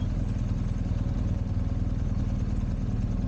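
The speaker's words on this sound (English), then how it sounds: "There's a couple on a bike." A motorcycle engine rumbles steadily at a low, even pitch on a night ride through Georgetown, close and continuous with no voices.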